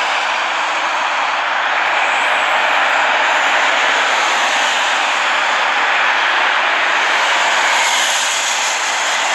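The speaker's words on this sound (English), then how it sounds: "That is a live plane." A steady, broad engine roar of an airplane droning continuously overhead, smooth and unchanging throughout, with no voices.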